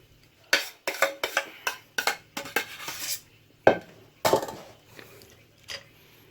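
Metal cookware clinks and clatters as a baking dish for cottage pie is handled, with a quick run of sharp knocks followed by a few louder bangs and scrapes, close by and with no talk.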